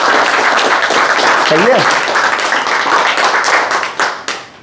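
Loud audience applause fills a summer internship orientation hall, dense and continuous before tapering off near the end, with a brief spoken question over the clapping.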